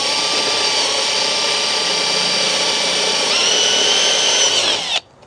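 A power drill bores a hole with a Kinco bit, a loud continuous whine that steps up in pitch partway through and then stops abruptly after about five seconds, with no voices.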